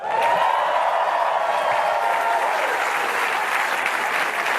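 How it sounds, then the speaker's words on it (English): Sustained, dense applause from a large audience at a NASA Goddard event, steady and loud throughout, with a faint cheer swelling at the start. "Now that's worthy of another round of applause."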